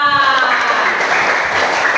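A class of students claps together in a dense, steady burst of applause, with a voice faintly audible in the background.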